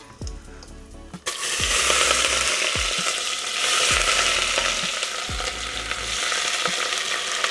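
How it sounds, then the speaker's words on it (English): Onions and peppers drop into hot oil and fry with a loud, steady sizzle, with occasional stirring clatter from the pan, heard on their own without talk. "we're gonna add our onions and peppers carefully."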